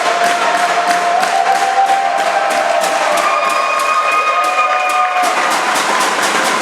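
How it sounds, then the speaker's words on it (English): A college basketball crowd at Piedmont International vs. Johnson University cheers loudly in the final seconds of a close game. Rhythmic clapping or stomping pulses under steady roaring voices and some sustained whistle-like tones. "So it's good to hear this crowd back into it."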